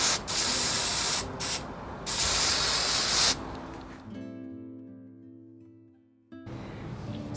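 Aerosol spray paint on a tree topper, three loud hissing bursts in close succession, the last one longest, then a faint tonal hum before a final short hiss.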